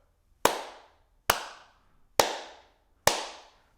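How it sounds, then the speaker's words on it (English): A class of people claps four times together during a music lesson, four sharp, evenly spaced claps about a second apart, each with a short decaying tail, and no talking. "So let's all clap 4 times."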